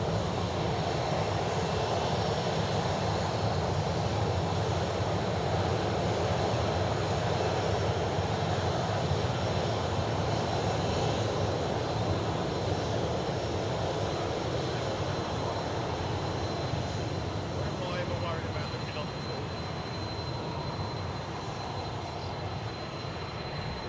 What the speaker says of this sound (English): You can listen to this 737 go out